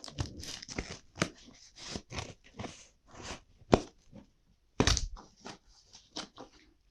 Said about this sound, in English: now let's cut the packet